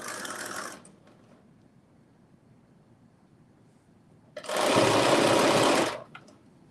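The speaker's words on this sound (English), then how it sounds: "we're sewing this at 5/8 of an inch seam allowance" Sewing machine stitching a knit crop top seam at a 5/8-inch allowance, heard in two loud, steady runs, a short burst at the start and a longer one after a pause of near silence.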